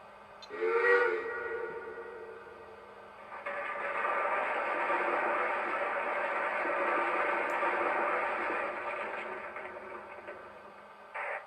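A short whistle toot, then a long steady steam whistle from a Lionel Legacy Mohawk model steam locomotive blows for several seconds over faint hiss before cutting off abruptly.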